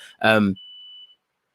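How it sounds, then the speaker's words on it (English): An air fryer's alarm gives a single steady electronic beep tone lasting about half a second, clear and close, just after a brief voice. "my alarm's going off. I've got a burger in my air fryer."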